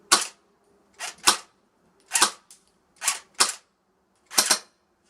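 A budget airsoft AK fires .25 BBs, six sharp snapping shots spaced about a second apart, some in quick pairs, close and crisp against near silence.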